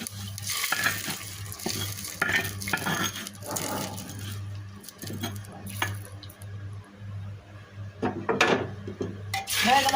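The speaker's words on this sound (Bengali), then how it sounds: "পেঁয়াজ রসুন ভেজে এটা ফোড়ন দিয়ে দিলাম।" Fried onion and garlic tempering is stirred into boiling dal in a pot, giving a close, steady sizzle with repeated scraping and clinks of a metal spoon against the pan and a low steady hum underneath.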